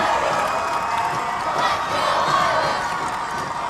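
Basketball crowd on the Veneta side of the gym in a semifinal game, cheering and whooping in a dense, steady roar that fills the space without letup.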